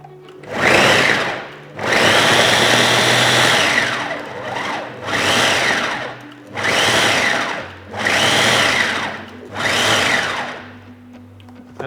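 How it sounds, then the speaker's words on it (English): A food processor chops a sweet potato falafel mixture in six pulses of loud whirring, each a couple of seconds long and separated by short pauses, close up with no voices. "we'll just process this so that they settle a bit in the food processor"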